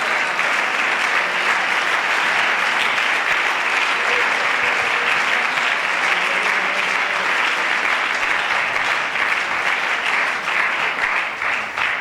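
Steady, dense applause from a church congregation at a Sunday school service, loud and unbroken throughout, with no pauses and little else audible.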